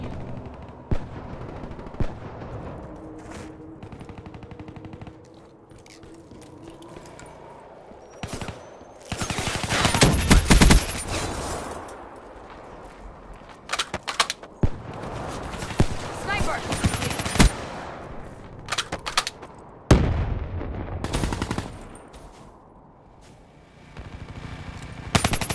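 Bursts of gunfire in a Black Ops video game, with scattered single shots and heavy automatic volleys clustered in the middle and near the end, mixed with game effects and occasional voice.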